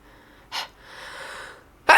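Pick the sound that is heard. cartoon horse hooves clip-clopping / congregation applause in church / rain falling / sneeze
sneeze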